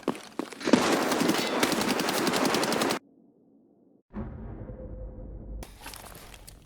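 Rapid gunfire from a Desert Eagle pistol in the Escape from Tarkov video game, a loud dense burst of shots for about three seconds, then near silence, then a low rumbling game ambience with more crackling shots at the end.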